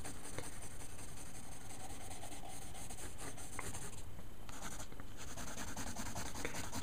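Prismacolor colored pencil sketching on paper, a soft continuous scratchy rubbing with short strokes, close and quiet, with no talking.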